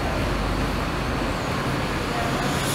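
Buses pull into the Governador Valadares bus station amid a steady low rumble of engines and road traffic, close and continuous, with a faint voice underneath.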